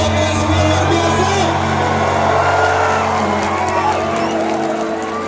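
Large outdoor concert crowd at Sriwijaya Expo in Palembang roars continuously with cheers, whoops and shouts, a dense steady wash of voices and applause filling the whole stretch with low music or hum beneath.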